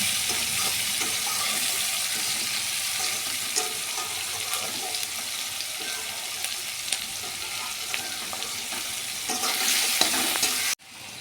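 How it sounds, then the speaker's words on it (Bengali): Chopped onions frying in hot oil in a pan after potatoes were fried, a steady loud sizzle lasting throughout with occasional stirring scrapes and clicks, heard alone. "এবার কুচি করে রাখা পেঁয়াজগুলো ছেড়ে দেব।"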